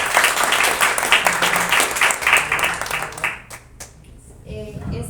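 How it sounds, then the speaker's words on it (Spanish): An audience at a talk on microscopic fungi gives a doctor loud, dense applause that fades into a few scattered claps before a voice returns. "Un fuerte aplauso al doctor."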